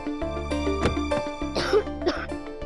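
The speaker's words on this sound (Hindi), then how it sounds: "मैं देख रहा हूँ 2 दिन से तुम बहुत खांस रही हो।" A woman coughs and clears her throat in a short burst of harsh, raspy coughs over a steady hum, with no talking.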